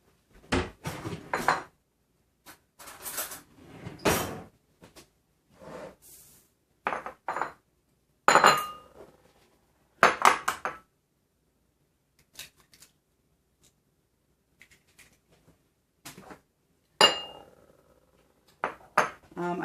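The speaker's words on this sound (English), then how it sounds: "Okay, so I need to lightly beat my egg." Fork or whisk clinking against a bowl as an egg is lightly beaten, short bursts of tapping strokes separated by pauses, close and fairly quiet.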